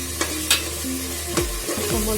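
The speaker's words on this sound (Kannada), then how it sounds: "ಟೊಮೊಟೊ ಚೆನ್ನಾಗಿ ಫ್ರೈ ಆಗಬೇಕು" Tomatoes fry in a pan with a steady close sizzle, punctuated by a few sharp scraping knocks of a spoon against the pan; no one speaks.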